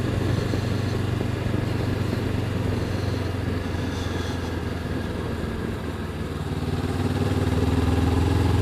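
Honda CB500X twin-cylinder motorcycle accelerating uphill in fourth gear, a steady close engine drone with low rumble and mechanical clatter, holding fairly even loudness throughout with a slight swell near the end.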